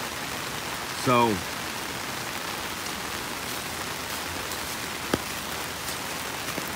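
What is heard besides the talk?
rain falling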